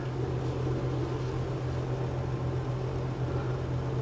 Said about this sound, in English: air conditioner I'm using right now for the summertime.